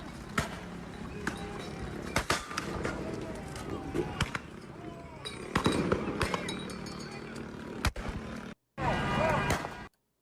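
Sharp bangs and pops from explosives go off repeatedly amid a noisy outdoor crowd at a Los Angeles protest, with shouting voices and clattering hooves of mounted police horses mixed in.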